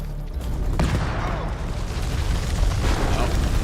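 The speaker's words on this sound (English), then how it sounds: "Grenade! Grenade!" A grenade explodes in the video game House of Ashes, a heavy booming blast with rumbling debris that carries on loudly, while a voice talks over it.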